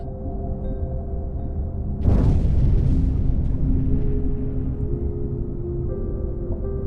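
In the game UBOAT, a deep, muffled underwater depth charge boom suddenly erupts over a low submarine engine hum, then rumbles and fades slowly while the steady drone continues.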